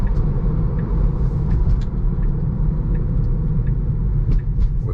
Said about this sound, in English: we're going to accelerate up to 50. Full power now.